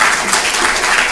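Audience applause at the launch event for Digital Shakti 4.0, a brief, dense wash of clapping from a crowd that holds steady and fairly loud the whole time.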